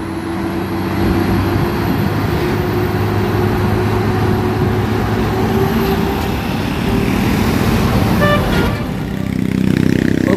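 A Fuso truck drives along a road, its steady low engine rumble loud and close throughout, with a brief horn-like toot near the end and no talk.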